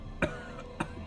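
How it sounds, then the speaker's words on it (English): A drunk man in the video game Disco Elysium gives a disgusting hacking cough, two short harsh bursts about half a second apart, fairly faint and close. "The drunk man starts coughing a really disgusting hacking cough."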